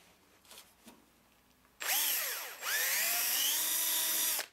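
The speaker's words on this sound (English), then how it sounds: "So this side here I'll drill out." After a few faint taps, a power drill whirs loudly in two bursts while drilling out a dog door for a sliding glass door, its pitch dipping under load, close by and with no talking.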